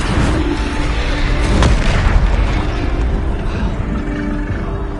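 Repeated booming blasts of the Bombarda spell in Hogwarts Legacy combat, loud and continuous, with a sharper burst partway through over rumbling battle noise and no voices.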